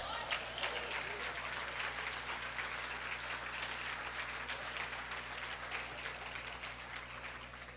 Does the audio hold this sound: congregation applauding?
yes